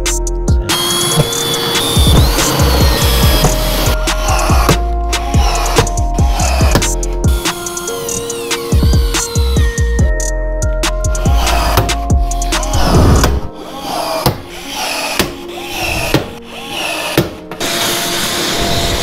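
Power tools whir and rattle in repeated bursts while an aluminum casting deck is riveted onto a jon boat, with mechanical clicks between runs and a quieter stretch toward the end.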